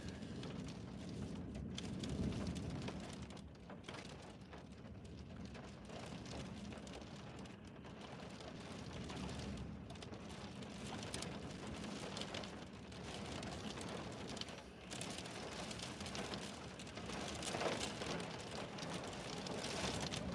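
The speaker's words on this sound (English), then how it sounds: "Oh, I don't know if you can hear that rain, but it's getting nasty." Heavy rain mixed with sleety hail pours steadily during a winter storm in Norfolk, a dense, constant roar of hissing and pattering that fills the whole stretch, with no voices over it.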